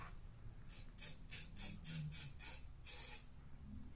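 An aerosol can of WD-40 lubricant sprays in a series of about eight short, rhythmic hissing bursts close to the mic, used while working on the fork gaiters of a Honda CT110 motorcycle.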